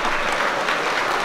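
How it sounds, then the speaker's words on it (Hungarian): Applause at a shepherds' ball in Oroszhegy, a dense, steady crowd clapping close by that fills the short moment without a break. "Egy tapsot kérünk neki."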